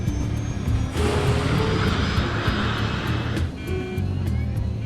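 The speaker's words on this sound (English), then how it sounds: "It's a very noisy engine with a particularly nasty crackle to it." A noisy aircraft engine with a nasty crackle runs at takeoff power, a loud, steady broadband roar that swells about a second in and holds close and dense to the end.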